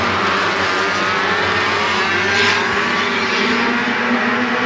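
Outlaw Midget race cars roar together in a dense, continuous engine drone at Flamboro Speedway, loud and steady with no gaps, a pack racing under green flag.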